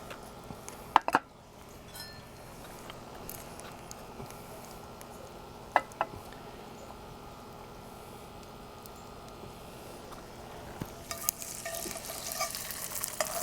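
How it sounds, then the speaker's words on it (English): Seasoned trout frying in a skillet over an outdoor campfire, a faint steady sizzle with a few sharp clinks and taps, growing slightly louder and hissier toward the end, no talking. "So we're going to put this on our fire in our skillet"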